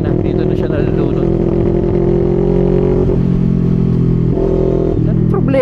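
A single-cylinder FKM Falcon X400 motorcycle engine drones loudly and steadily under throttle in fourth gear, with slight dips in pitch as it struggles, close up and constant for the whole stretch. Someone talks over the engine.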